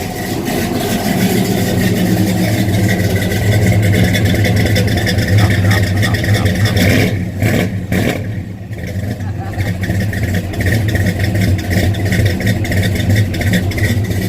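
A large old carbureted engine in a 1985 GMC C20 pickup truck idles roughly and revs up in repeated bursts, loud and close, with voices talking over it.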